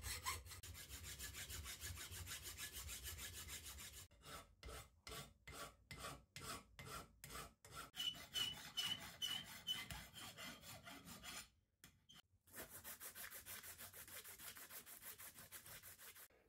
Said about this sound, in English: use them as a guide to saw off the excess and then file the stays to shape